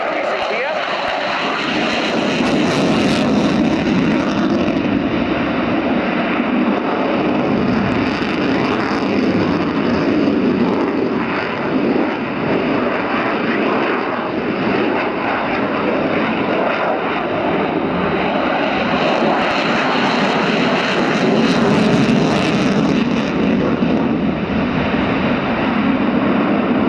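A modernised Sukhoi Su-27 P1M jet flies at the RIAT airshow, its loud, steady engine roar swelling and fading slightly throughout while a commentator talks over it.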